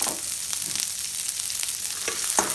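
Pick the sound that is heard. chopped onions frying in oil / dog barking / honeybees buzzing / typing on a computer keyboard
chopped onions frying in oil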